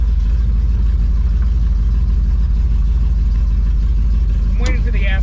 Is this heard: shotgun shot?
no